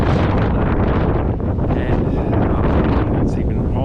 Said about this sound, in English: have a look at that wind still blowing